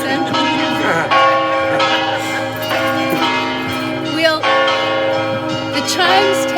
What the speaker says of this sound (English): The chimes take a while.